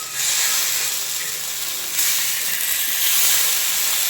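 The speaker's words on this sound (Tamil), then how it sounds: "இப்போ மீன் திருப்பி போட போகிறேன்." Fish frying in hot oil for a fish fry, a loud, continuous bright sizzle and hiss that swells slightly partway through as the pieces are turned over, close up with no talking.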